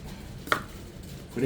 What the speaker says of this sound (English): we're going to try to cut them all even